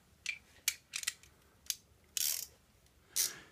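Exhaust header bolts on a ZX10R motorcycle tightened with a ratchet, a few close, sharp clicking bursts spaced irregularly, with quiet pauses between.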